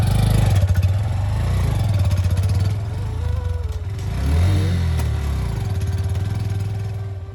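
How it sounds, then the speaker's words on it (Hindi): A motorcycle labours along a sandy forest track, its mid-pitched engine droning steadily with clattering and uneven revs as the wheels struggle in the loose sand, loud and close throughout. "सीधी ना चल पा रही यहाँ पे मोटरसाइकिल, क्योंकि इतना ज़्यादा रेतीला क्षेत्र है"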